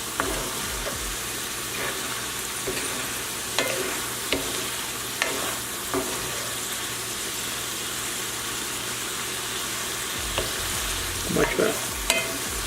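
Chicken meatballs with baby bok choy and sweet peppers stir-fry in a pan under a constant close sizzle, broken by repeated scraping and clanking strokes of a utensil tossing the food.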